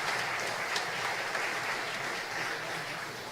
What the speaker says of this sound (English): Another round of applause for Dave Edward Foreman.